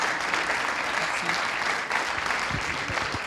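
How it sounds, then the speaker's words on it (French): Applause at a national awards ceremony for the Groupama Pro Trophy, a dense, steady wash of clapping that fills the whole stretch, with a few louder claps and faint voices near the end. "Sous un tonnerre d'applaudissements"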